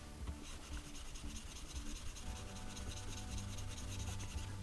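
Chisel blade being honed on a fine whetstone with a film of slurry, light continuous rubbing and rasping strokes, soft and close with no voices.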